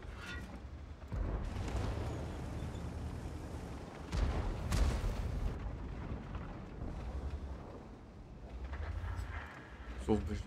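An IS-3 tank's cannon fires in the video game World of Tanks with deep, rumbling booms. The shots sit under nearly continuous commentary from a man.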